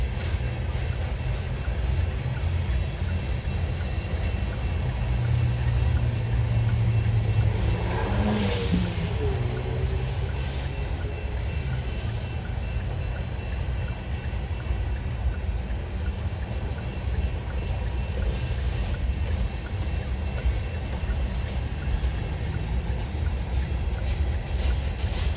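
A long freight train with grain hopper cars rolls past in a continuous heavy rumble and rattle of wheels on rails, steady and loud for the whole stretch, with a brief rising squeal partway through.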